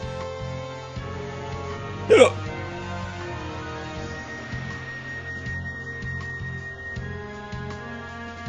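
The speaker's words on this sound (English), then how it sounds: "The hiccups are not going away," A single sharp human hiccup bursts out close to the mic, brief and loud, over a backdrop of steady electronic game music.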